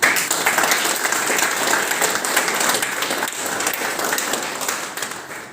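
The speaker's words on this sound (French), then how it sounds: "Je voudrais qu'on les applaudisse très fort" An audience at a Madagascar tourism award ceremony bursts into loud, sustained applause honoring the ministry's tourism team. The dense clapping carries evenly for over five seconds before easing slightly at the end.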